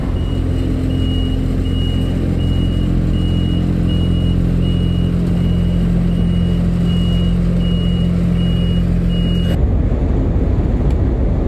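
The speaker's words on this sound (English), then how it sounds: "A Scania truck, and really clean one." A clean Scania truck reverses with a steady, evenly spaced beeping alarm over a loud, constant diesel engine rumble, close by; the beeping stops near the end while the engine keeps running.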